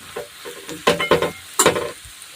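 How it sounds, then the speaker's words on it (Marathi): Dried red chillies for khuda fry in hot oil over a low flame, with soft crackle and then two loud bursts of sputtering sizzle and stirring up close. "तेल गरम झालेलं आहे आता आपण खुडा तळून घेऊ"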